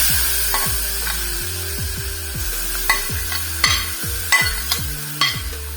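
Grated carrot fries in a pan and is stirred with a spoon, so repeated scraping strokes fall in a quick, uneven rhythm over a bright, continuous sizzle, close and fairly loud.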